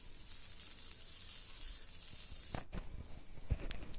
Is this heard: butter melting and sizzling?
yes